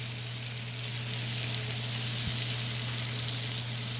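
Pine mushrooms, white button matsutake sprinkled with garlic salt, fry in a pan with a steady, bright sizzle, close and even throughout, with a faint low hum underneath and no voices.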